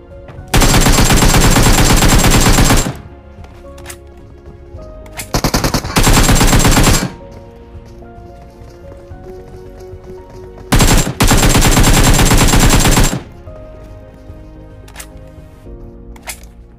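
Loud automatic gunfire from a battle royale video game, fought around shipping containers and a warehouse, comes in two long sustained bursts and one short one, with shorter quieter volleys between them and no talking.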